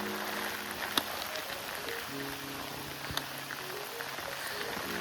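Steady rain falls outdoors during a trip from Panhala to Pawankhind, a continuous even hiss with a few sharper drips and taps, heard alone with no voices.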